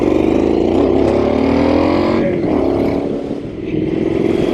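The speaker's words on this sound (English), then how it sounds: "I'm riding this particular motorcycle" A Triumph Street Scrambler 900 motorcycle engine drones steadily while riding, loud and close with wind rush, easing briefly in the middle before picking back up.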